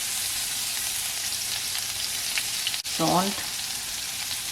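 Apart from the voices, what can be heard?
vegetables and spices roasting in a pan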